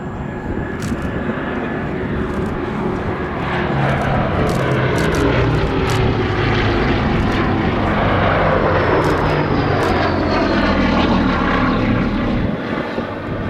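A Bristol Blenheim bomber flies past at the Battle of Britain Air Show at Duxford, its piston engines droning loudly and steadily with a rising and falling pitch across the pass.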